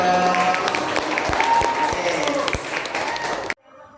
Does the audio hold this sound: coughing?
no